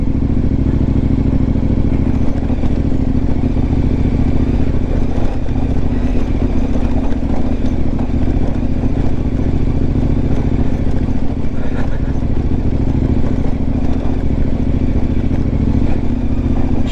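A KTM 1090R adventure motorcycle engine roars loudly and continuously while riding, with steady mid-pitched drone and rattling clatter throughout, no clear speech over it.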